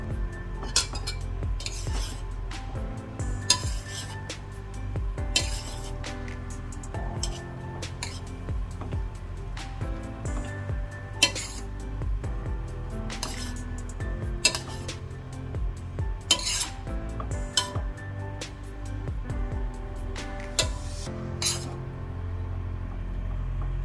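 Basmati rice stirred in a pan for vegetable fried rice, with repeated sharp metallic scrapes and clinks of a spoon against the pan over a low steady background.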